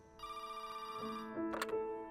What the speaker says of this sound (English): I remember my mom getting a phone call from my Aunt Joan, Dave's mom.